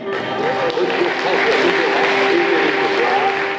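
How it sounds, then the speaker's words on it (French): Loud, sustained applause from a crowd at a Socialist Party federation celebration in Montlouis-sur-Loire, thick clapping with voices rising through it for the whole stretch. "Les applaudissements résonnaient encore hier soir à Montlouis-sur-Loire"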